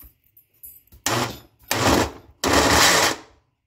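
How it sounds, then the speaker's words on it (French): A blender mixes milk in three loud whirring bursts of roughly half a second each, separated by short pauses, with faint handling noise before the first burst. "Je vais d'abord mixer ça et ensuite on verra"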